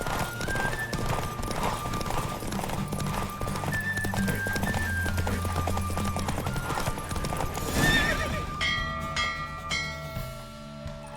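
A horse gallops in The Witcher 3 with rapid, steady clip-clop hoofbeats and a brief whinny, set over layered game music that fades near the end.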